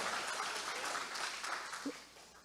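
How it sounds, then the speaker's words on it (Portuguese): A church congregation applauds God, a soft, distant patter of clapping from a crowd that gradually fades away near the end. "Quem vai aplaudir a Deus agora?"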